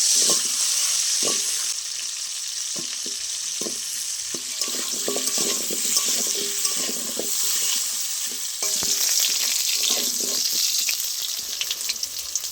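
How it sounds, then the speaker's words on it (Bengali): Potatoes fry in hot oil in a pan for a Bengali fish curry, a steady, close sizzle that runs throughout with occasional scraping stirs and small clinks. "আলুটা এবার দিয়ে দেবো তেলের মধ্যে"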